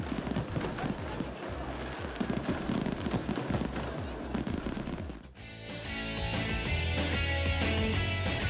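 A fireworks display by Parente Fireworks in Navarra crackles and pops in rapid dense bursts, then gives way to music with a steady beat.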